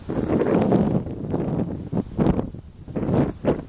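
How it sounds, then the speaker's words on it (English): Strong wind gusts buffet the microphone at a waterside park, a rough roar that swells and dips in waves and stays loud and close, with no talk. "You have to know what you're doing with this kind of wind."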